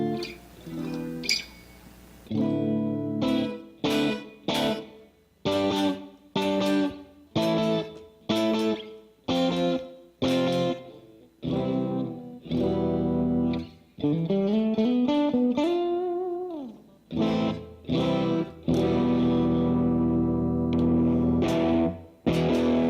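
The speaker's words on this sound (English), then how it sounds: "So I guess it's like a Vox with a compressor and a diode distortion." Electric guitar played through a Vox-style amp simulator preset with compressor and diode distortion, heard as a run of loud, distorted chords and riffs with sustained notes and short gaps between strummed phrases.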